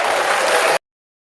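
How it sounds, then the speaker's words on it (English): Audience applause at a talk about marriage, a dense burst of clapping that cuts off abruptly after under a second, followed by silence. "Give them a hand clap for that one."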